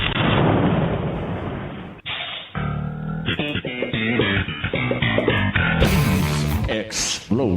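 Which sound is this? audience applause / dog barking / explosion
explosion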